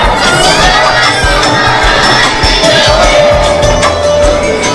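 Dense crowd noise from a large gathering of devotees at a satsang, with many women present: continuous loud murmur and shouting voices, with children and scattered cheers throughout.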